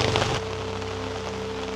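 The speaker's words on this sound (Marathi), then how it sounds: "अरे जाम पाऊस झाला आहे." Heavy monsoon rain pours down in a village as a dense, constant hiss that holds steady, with a low hum underneath and no voices.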